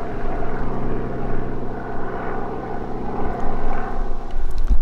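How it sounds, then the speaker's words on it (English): A police helicopter flies past over woodland beside a closed campground, its rotor drone loud and steady, swelling slightly as it passes. "there's still the police helicopter"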